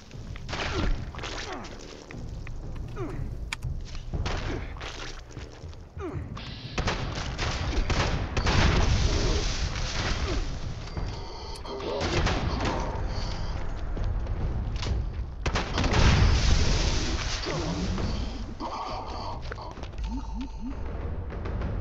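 Gunfire crackles across a Fallout 76 battle in repeated overlapping volleys and booming hits, a steady stream of shots lasting the whole stretch, with occasional speech underneath.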